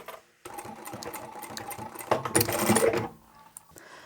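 Overlocker sewing machine stitching a beanie cap, a rapid mechanical whirring rattle that runs for a few seconds, swelling louder near the end before stopping abruptly, heard up close without speech.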